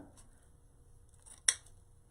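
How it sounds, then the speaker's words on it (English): A single sharp snip of scissors cutting the ribbon tails on a long needle pine holiday swag, close and crisp against a quiet room. "I'm actually going to cut."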